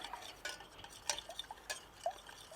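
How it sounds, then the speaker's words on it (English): A utensil stirs mint sauce in a pan at a barbecue, giving light scraping and a few sharp metallic clinks and taps spread across a short, otherwise quiet stretch. "Give it a bit of a stir, pop that straight on the heat"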